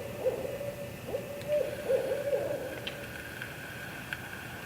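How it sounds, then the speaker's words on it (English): An owl hoots in the woods at night, a series of low, soft hoots of moderate loudness over a hushed background, with faint distant noise and no talking. "That's an owl."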